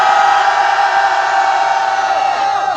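A large crowd at a Wednesday protest rally over Japanese military sexual slavery lets out a loud, sustained unison shout that holds for several seconds before tapering slightly at the end.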